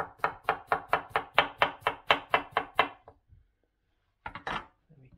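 A knife slices food on a cutting board in a quick, even run of about a dozen crisp strikes, then a short pause before a few more cuts, close and clear.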